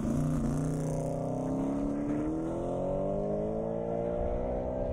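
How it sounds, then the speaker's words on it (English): A Fox body car running about 1,000 horsepower makes a drag racing pass on an airstrip, its engine a sustained loud roar with rising harmonics as it accelerates away, steady throughout. "Looks pretty fast for that pass for that Fox body"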